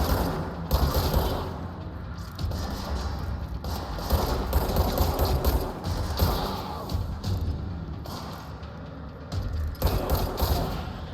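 Rapid gunfire from an action video game set in a creepy government building, bursts of shots and thuds crackling in clusters over ambient game sound, moderately loud and close.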